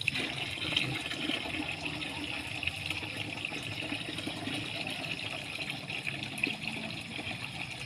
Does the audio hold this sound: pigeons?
no